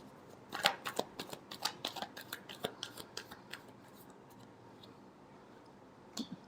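Tarot cards shuffled by hand make a quick run of close, crisp flicking clicks for a few seconds. Quiet follows, then one last soft snap.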